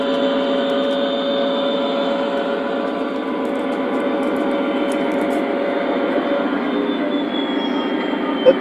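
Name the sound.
O gauge model train running on track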